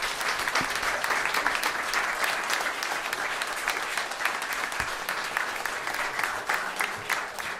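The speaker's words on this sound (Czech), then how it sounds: "I jim můžete zatleskat." Audience applause for a Czech cimbalom folk band led by Roman Sokol, a dense, steady clapping crowd sustained at even loudness throughout.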